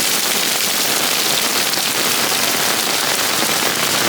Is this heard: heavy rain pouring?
yes